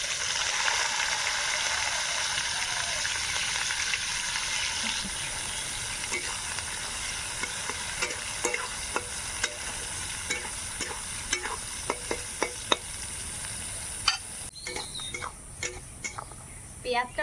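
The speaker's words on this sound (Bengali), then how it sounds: "এবার দিয়ে দেব কোচানো পেঁয়াজ আর চিরা কাঁচা লঙ্কা এই তেলের উপরে।" Sliced onions and slit green chillies fry in oil with a continuous bright sizzle, joined partway through by a run of clicking, scraping stirring strokes against the pan that grow more frequent toward the end.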